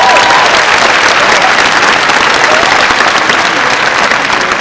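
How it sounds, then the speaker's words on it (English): Loud, sustained applause from a graduation ceremony crowd honoring high school teachers, dense clapping that stays steady throughout with no talk on top. "Let's give our teachers a round of applause."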